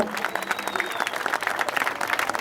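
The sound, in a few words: applause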